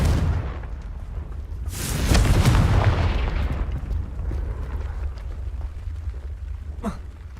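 A Confringo spell explodes in Hogwarts Legacy with a loud, roaring blast that swells for about two seconds, rumbles away under faint ambience, and ends with a brief sharp crack near the finish.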